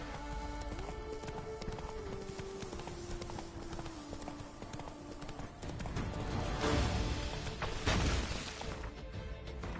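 Roach, the horse in The Witcher 3: Blood and Wine, sounds rhythmic clip-clopping hooves under a sustained game music tone, with a louder crash and snorting swell toward the end.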